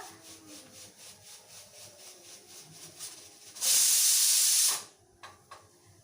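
A pressure cooker cooking khichuri with rice and lentils lets out one loud, sustained burst of steam hiss lasting about a second, preceded and followed by quieter kitchen rustling.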